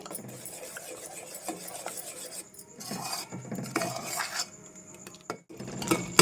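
Grated carrot being stirred into sugar syrup in a pan, with a utensil scraping and clinking against the metal in irregular strokes, fairly close and moderately quiet, no talking.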